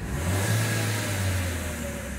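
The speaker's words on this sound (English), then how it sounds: "That's a healthy sounding engine." Vauxhall Opel Mokka 1.4i turbo petrol engine revving smoothly, a steady close mid-pitched drone held throughout with no talk over it.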